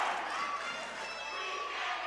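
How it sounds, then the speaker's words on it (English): Volleyball gym crowd at a boys' championship match, Lowell fans taunting the opposing student section; a steady, dense roar of many voices and shouts fills the hall without pause. "you can hear the crowd right now"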